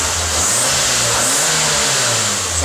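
A 1999 Fiat Punto SX 1.2 85hp three-door hatchback engine runs steadily nearby at idle with light revving, giving a continuous mid-range hum and drone.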